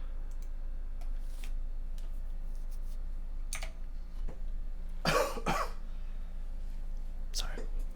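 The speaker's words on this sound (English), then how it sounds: "Still have that cough thing." A person with a lingering cough and a strained throat coughs a few times indoors, close to the microphone, a couple of short bursts in quick succession midway and one more near the end, between faint quiet sounds.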